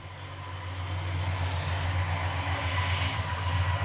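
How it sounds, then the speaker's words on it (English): A train rolling past the Glenview stop on its way to Milwaukee, a steady low rumble that swells gradually as it draws nearer, heard alone without speech. "And this is the train on the way to Milwaukee."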